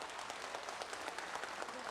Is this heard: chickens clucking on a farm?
no